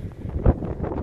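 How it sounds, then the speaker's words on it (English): Gusty wind buffeting the microphone at a truck stop, a low rumbling roar that swells briefly in the middle before settling back to a steady rush. "It's windy."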